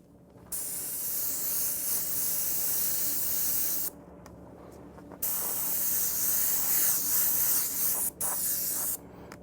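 An airbrush sprays paint through a stencil in close, loud hissing bursts, several long sprays separated by short pauses as the trigger is released.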